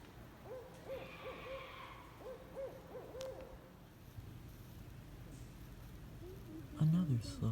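A barred owl hoots at night in a forest, giving two short series of hollow, moderately distant calls against quiet background hiss, followed by a low rustle near the end.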